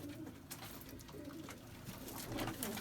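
Female pigeons coo faintly on a rooftop in Bathinda, soft low murmuring calls mixed with rustling and ambient noise, quiet and somewhat distant over about three seconds.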